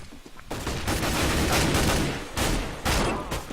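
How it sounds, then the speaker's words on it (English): Rapid bursts of Mag 7 shotgun and other gunfire from a Counter-Strike match fill the clip, loud and close with brief gaps between volleys. "we see Taki bringing out the Mag 7, getting 2 kills here"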